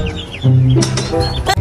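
A cartoon goose honks and squawks, a short loud nasal call with a couple of quick bursts, close and alone.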